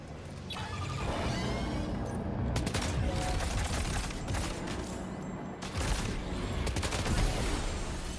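Assault rifle fire in Death Stranding 2 crackles in sustained rapid bursts, loud and close, with a short lull midway before the shooting resumes.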